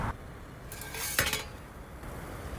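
A metal cooking pot and its lid clatter on a camping cooker outdoors, a few bright clinks and scrapes in close succession over a low background hiss.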